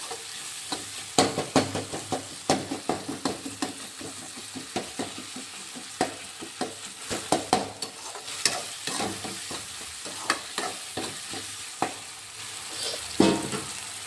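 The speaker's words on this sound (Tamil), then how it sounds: "நல்லா வதங்கி வரட்டும்." Tomatoes sautéing in a pan for a bitter gourd gravy fry with a soft sizzle while a spoon stirs and scrapes in repeated, irregular clacks close by, with no voices.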